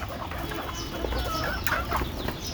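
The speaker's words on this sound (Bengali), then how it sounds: "এই দেখেন মুরগি ছাড়লো" A hen clucks softly nearby while small chicks peep and cheep in quick, scattered bursts, all at moderate volume with no talking.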